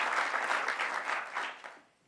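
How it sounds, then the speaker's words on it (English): A crowd at a housing policy event with New York Governor Kathy Hochul claps steadily for about two seconds, then the applause fades out quickly. "let's give a round of applause"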